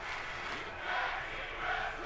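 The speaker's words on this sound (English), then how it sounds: "You hear this incredible crowd here in North Carolina." Crowd at a tag team wrestling match in North Carolina, a faint, distant steady roar of cheering and shouting with some swells in volume.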